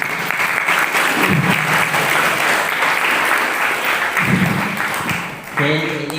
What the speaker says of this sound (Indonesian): Oke, aplaus buat pembicara.